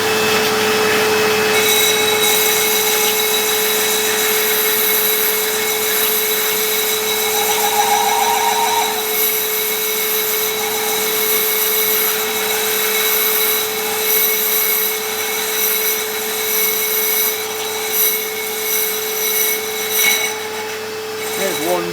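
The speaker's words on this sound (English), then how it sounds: "I'm going to put the hoover on to suck the cast iron in as I'm machining it" A hoover runs with a steady loud whine and hum close by, sucking up cast iron chips while a lathe machines the cast iron, with scraping and rubbing sounds from the cutting.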